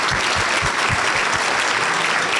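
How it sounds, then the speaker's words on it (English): Rotary luncheon audience clapping for Seattle Fire Department Recruit Class 106, loud continuous applause from a large crowd with a few close, heavy hand claps standing out. "let's give Recruit Class 106 a round of applause too"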